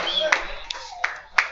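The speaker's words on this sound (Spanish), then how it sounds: "aplausos." Crowd applause at a King of Fighters XIII fighting game tournament top-four match in Costa Rica, with a few sharp clap bursts rising over steady crowd chatter.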